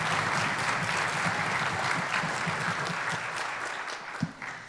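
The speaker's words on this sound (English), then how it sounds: "So Carly, we'll give you another round of applause" Sustained audience applause fills a school auditorium after an orchestra concert award, a steady wash of many hands clapping that fades slightly toward the end.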